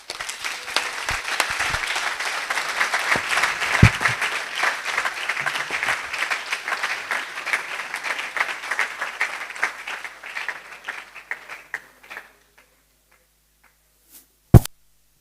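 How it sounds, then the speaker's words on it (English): An audience claps at a research office event, dense and steady at first, then thinning into scattered individual claps before stopping, with one sharp knock near the end. "Let's clap again, please."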